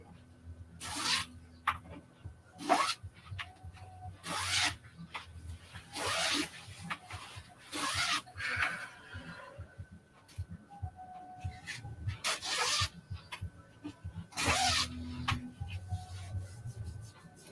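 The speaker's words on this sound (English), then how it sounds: "now you guys get to learn how to put zipper pulls on" Zipper pulls being threaded onto a zipper during a sewing project, with repeated short scraping zips and rubbing bursts close to the microphone, separated by brief pauses.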